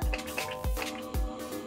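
Three close, short spritzes of Mario Badescu aloe herb and rose water facial mist sprayed onto the face, each a soft puff of hiss evenly spaced in a quiet room.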